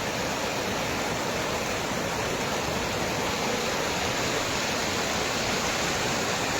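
Water overflowing from Ramdhari lake pours in a steady, loud, roaring rush with no break, dense broadband noise like a close waterfall, with no voices over it.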